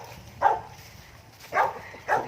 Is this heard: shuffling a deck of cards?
no